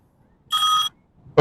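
A telephone rings in one short, bright electronic burst lasting under half a second, followed by a brief pause before a voice begins speaking close by.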